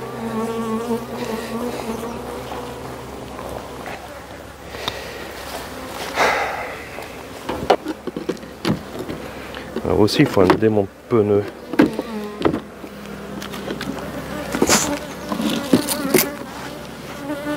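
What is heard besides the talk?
honey bees buzzing during honey harvest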